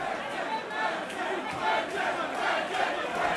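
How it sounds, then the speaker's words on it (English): A white collar boxing crowd in London roars and shouts during an opening round, a continuous rowdy wall of yelling voices with sharp spikes, moderately distant and sustained. "Listen to the crowd"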